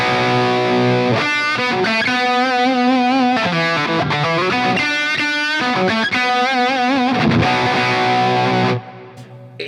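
Heavily distorted electric guitar chords through a Marshall JCM 800 amplifier, loud and close, struck in a series of ringing strums with brief gaps, then cut off abruptly near the end, leaving faint room noise.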